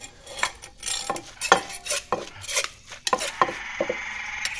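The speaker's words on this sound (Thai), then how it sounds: "เรามาตำข้นๆเข้ากันนะอันนี้ มีรสชาติเผ็ดๆนะ" Rhythmic pounding of a thick, spicy mixture in a mortar, sharp knocks and clinks of pestle against the bowl, repeated close by at an uneven pace.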